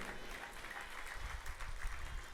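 Faint, steady audience clapping at a Hindi spoken talk, a low, even patter of many hands that continues through the whole moment with no voice on top.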